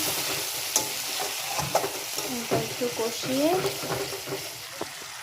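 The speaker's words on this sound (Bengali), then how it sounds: "এখন দারচিনি, এলাচ আর গোটা জিরে ফোড়ন দিব" Cinnamon, cardamom and whole cumin temper in hot oil for a vegetarian cashew, potato and paneer curry, a close bubbling sizzle with spoon-stirring scrapes and a faint voice in the background.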